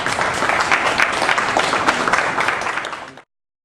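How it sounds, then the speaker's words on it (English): A lively round of applause from an audience welcoming a speaker, bright and busy with many hands clapping, then cutting off abruptly into silence. "if you can please give him a big round of applause to welcome him"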